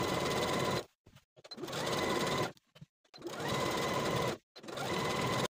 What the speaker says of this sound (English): now I'm going to edge stitch close to those finishing stitches all the way around the bottom of the dress